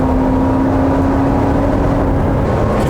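A supercharged V8 in a Y62 Nissan Patrol holds around 4,000 rpm while towing a van, giving a steady, loud engine drone with a constant whine and no talk over it.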